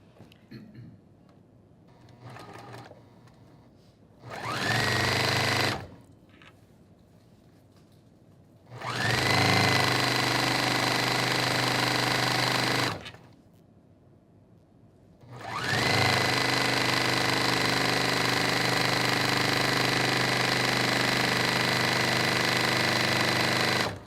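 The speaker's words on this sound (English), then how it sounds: "So I'm sewing with the 1/4 inch seam." A sewing machine stitches a quarter-inch seam in three loud close bursts of whirring, separated by quiet pauses.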